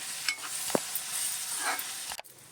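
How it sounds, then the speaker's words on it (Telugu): Onions frying in a pan for an Andhra-style chicken curry, a soft close sizzle broken by a few spoon scrapes and knocks as they are stirred, with no talking. "ఇదిగోండి ఇలా చక్కగా వేపుకోవాలి దోరగా రంగు వచ్చే వరకు వేపుదామండి"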